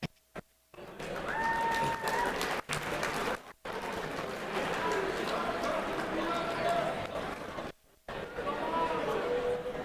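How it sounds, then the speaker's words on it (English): An awards gala crowd breaks into a broad round of applause, many hands clapping in a sustained, roomy roar that swells and drops off in places, while a voice speaks over it through a PA. "a big round of applause"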